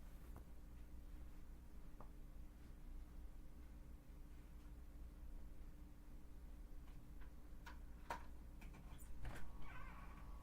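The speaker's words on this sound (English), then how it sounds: "I got to let my cat outside." A domestic cat gives a few faint meows near the end, indoors at home over a steady low background hum.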